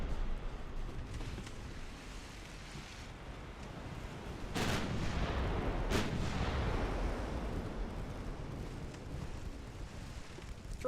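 Naval guns fire armor-piercing shells in the warship game Ultimate Admiral Dreadnoughts: two sharp booming blasts cut through a steady rumble of gunfire, with no talk.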